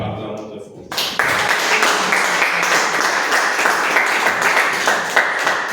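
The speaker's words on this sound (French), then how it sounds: "Acclamons très fort." A church congregation breaks into loud, sustained applause after a quieter moment, with the clapping dense and close and voices heard underneath.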